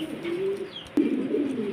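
Fancy pigeons kept in cages at a pigeon seller's farm, giving soft, low cooing calls up close in a short continuous run.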